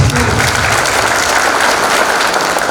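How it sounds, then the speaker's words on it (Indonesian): Dense, steady applause from an audience at a motivational leadership training session, loud and continuous throughout without any voices on top. "Oke ya, tepuk tangan untuk perkataan."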